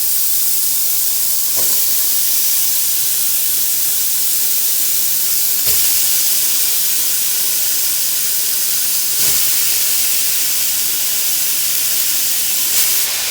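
Vegetables sauté in a hot pan with a loud, steady steamy hiss and sizzle that hardly changes, broken only by a few faint soft knocks, with no speech.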